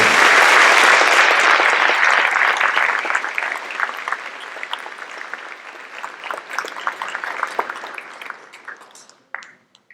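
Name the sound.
applause for senior class members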